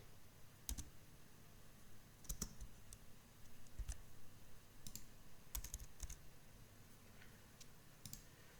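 Computer keyboard being typed on in short, irregular bursts of quiet clicks, with pauses between the keystrokes.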